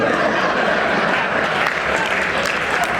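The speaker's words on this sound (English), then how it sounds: "They gave me a begrudging applause." Dense, steady audience applause in a discussion event setting, a continuous wash of many hands clapping at once, loud and even throughout with no distinct voices.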